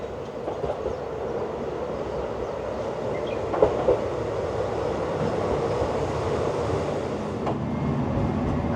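A yellow one-man local train bound for Oita pulls into a station with a loud, steady rumble and faint clacking of wheels, filling the scene without letup.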